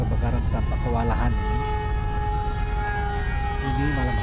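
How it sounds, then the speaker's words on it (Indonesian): Emergency sirens wail steadily at night while Los Angeles wildfires burn and fire engines pass, a sustained rising-and-falling tone running underneath someone talking throughout. "Terus suara sirene merongrong"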